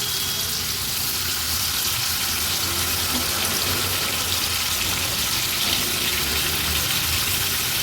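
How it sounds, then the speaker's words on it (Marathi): Black fish shallow frying in hot oil give off a steady, even sizzle with a broad hiss that continues without pause for several seconds, fairly close and moderately loud. "आता एक एक करून हे काळे मासे आपण तेलावर सोडणार आहोत"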